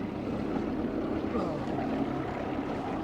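A 1990 Johnson 25 hp outboard motor with a 15-pitch propeller runs at steady throttle, pushing a heavily loaded boat. The drone is continuous and fairly loud throughout, mixed with water and wind noise.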